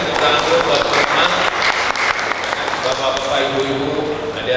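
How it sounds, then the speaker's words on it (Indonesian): A crowd of community members at a local gathering in Situbondo, Indonesia, claps loudly and continuously in a thick wash of applause that holds steady throughout. "tepuk tangan dulu buat teman-teman"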